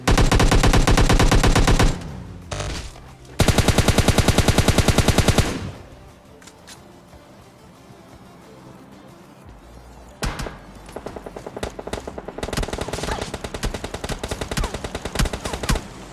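PUBG Mobile Lite gunfire from an M416 with the Wanderer skin: dense, loud automatic bursts near the start, then quieter stretches, and then rapid repeated shots close by.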